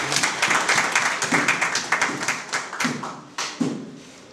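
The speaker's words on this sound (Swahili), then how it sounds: "Jamani, shangilia, piga makofi." An audience at a vocational college graduation claps steadily, a dense patter of many hands that swells and then thins toward the end, with a few sharper claps standing out.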